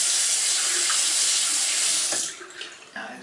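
Tap water runs steadily into a sink during a shaving session, a loud continuous broadband rush that cuts off near the end, leaving quieter splashes and trickles.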